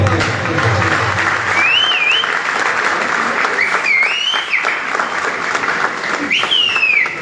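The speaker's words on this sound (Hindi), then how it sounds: "जोरदार तालियां।" Loud, sustained applause from a large audience at a Jhelum ustad-shagird music gathering, a dense wash of clapping across the whole stretch with a few brief whistles rising above it.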